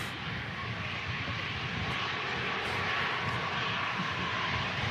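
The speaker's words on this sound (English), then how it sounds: "And this EasyJet is in from Gibraltar." An EasyJet airliner arriving at Manchester Airport from Gibraltar on a windy day makes a broad, steady engine roar that holds at a constant level from start to finish, with no other sounds standing out.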